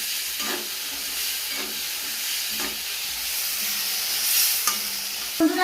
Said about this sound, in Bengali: এই বেগুনটা কিন্তু একটু ভেজে তুলে নেবো